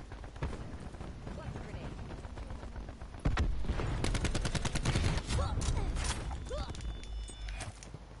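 Gunfire in the video game Call of Duty: Black Ops 4, with rapid bursts of shots over continuous game noise that get louder and denser partway through and keep going to the end.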